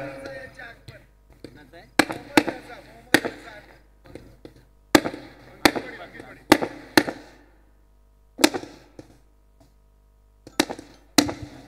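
Sharp firework bangs crack at irregular intervals at a night cricket tournament semi-final in Dhutum, some loud and close, others fainter, with a murmur of voices between the blasts.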